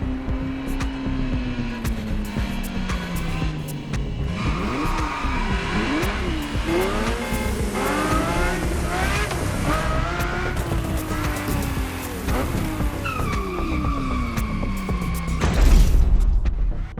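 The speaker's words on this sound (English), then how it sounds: "The car you're about to drive in this opening event is none other than the first Ferrari in the supercar bloodline, the Ferrari GTO." A Ferrari GTO races in The Crew Motorfest, its engine revving and shifting up and down through gears with tire squeals, a continuous loud close drone that ends in a heavier burst.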